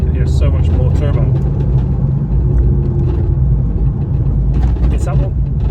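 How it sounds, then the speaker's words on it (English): Ford Focus ST225 turbocharged engine on the move, a steady loud low rumble and drone filling the cabin throughout, with faint turbo whoosh and people talking over it. "I can hear so much more turbo."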